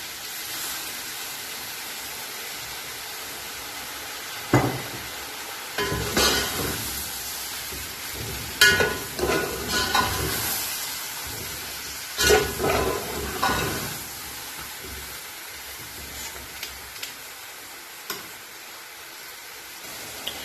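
Chicken pulao rice sautéing in oil gives off a steady low sizzle and hiss, broken by several louder scraping stirs and clatters in the middle before settling back to a quiet simmer.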